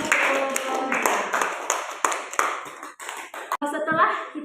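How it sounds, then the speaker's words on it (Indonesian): A classroom group clapping hands together during a physics lesson, bursts of claps with children's voices mixed in, fading unevenly toward the end. "Mari kita berikan tepuk tangan"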